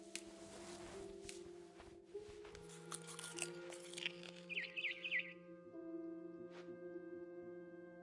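Barn swallow chirping outside a window in the video game What Remains of Edith Finch: a short burst of bright tweets mid-scene, layered over sustained music tones and crunching, chewing-like sounds.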